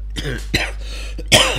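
A person with a cough and sore throat clears their throat and coughs in a few short, rough bursts close to the microphone over a low steady hum.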